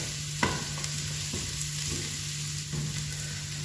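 Garlic and spices frying in a pan for a sardine pulimunchi masala, a steady close sizzle with a few sharp stirring scrapes and clicks, no talk.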